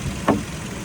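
A 2007 Volkswagen Cross Golf with a 1.6 MPI engine idles with a steady, even low hum, close and moderately loud, broken by one brief soft bump.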